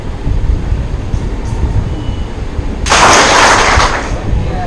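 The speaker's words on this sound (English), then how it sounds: "When I fold my finger like this, one clap." A classroom of students answers with a single loud clap in unison, one brief, sharp, crowded burst standing out from the low room noise.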